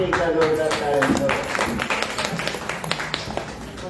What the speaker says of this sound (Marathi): सगळ्यांसाठी एका जोरदार टाळ्यांचा